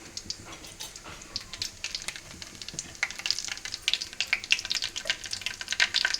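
Spices tempering in hot oil with mustard seeds sputtering, for a ridge gourd dish: a steady close sizzle with scattered crackling pops that grow denser and louder toward the end, no voices.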